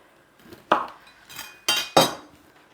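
A knife clinks against a plate while cutting a freshly baked, still-warm poppyseed cake. Three or four crisp, close chinks sound in quick succession, with no talking.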